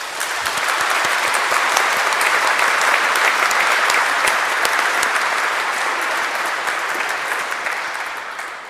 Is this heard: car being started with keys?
no